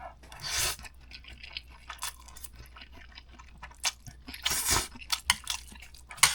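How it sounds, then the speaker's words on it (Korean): Close-up chewing of a mouthful of fish cake ramen, with crunchy bursts and soft wet mastication sounds coming in uneven clusters, quiet between bites and louder near the end. "일단 한입 하겠습니다."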